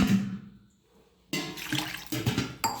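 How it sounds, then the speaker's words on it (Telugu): Water poured from a glass into a pot with cloves and cinnamon for a herbal decoction, a short near splashing pour after a quiet pause, with no talk. "వాటర్ పోసుకుందాం."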